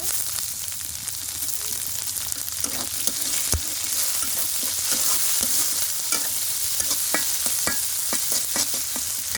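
Chili hits a hot pan while potato and tomato pasta cooks, a dense continuous sizzle close up with scattered clicks and scrapes from stirring.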